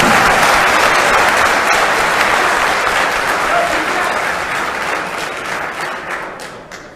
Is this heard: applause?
yes